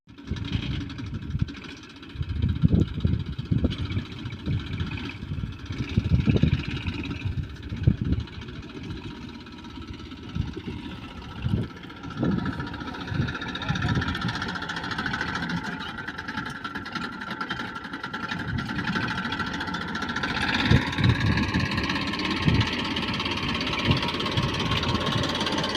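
A farm tractor engine runs steadily through a long stretch of village fieldwork, a continuous droning rumble with uneven bursts and knocks, fairly close and loud, with no talk over it.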